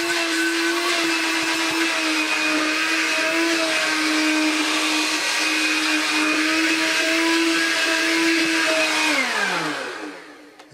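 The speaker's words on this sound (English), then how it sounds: "BNIB Goblin Handy Vac working and show you it with the box and everything." A vintage early-1990s Goblin handheld vacuum cleaner runs with a steady, close whining hum for about nine seconds, then its pitch drops and it fades as it switches off.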